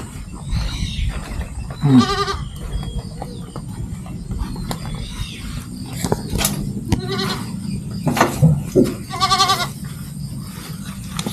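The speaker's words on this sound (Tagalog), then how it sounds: "May mga kambing pala di si sir dito." Several goats bleat in short, wavering cries at intervals on a small goat farm, some close and loud, over a background of outdoor noise and a little talk.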